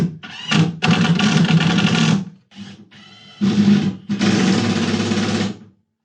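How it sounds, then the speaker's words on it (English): An electric drill-driver sinks 2-inch screws into a cabinet base in a series of loud whirring bursts of several seconds each, with short pauses between screws. "just need to drive the screws."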